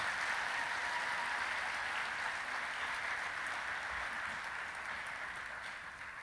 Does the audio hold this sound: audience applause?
yes